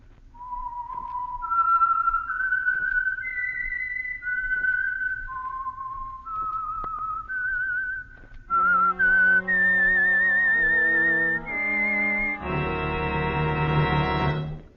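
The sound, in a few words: whistled theme melody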